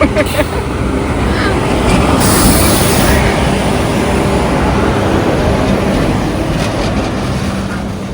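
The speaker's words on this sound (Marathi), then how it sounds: "ट्रेन आली" A train rolls past on a railway track beside farm fields, a loud continuous rumble and rattle of wagons holding steady for the whole stretch.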